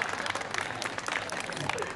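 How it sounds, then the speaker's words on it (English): Audience applause for a street performer in London, a dense burst of clapping filling two seconds at steady, fairly loud level with crowd noise mixed in. "give him a big round of applause"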